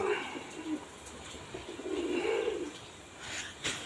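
Pigeons, including a blue cock trailing a hen, give low rolling coos, a short one early and a longer swelling phrase in the middle, fairly close amid faint hiss and small knocks.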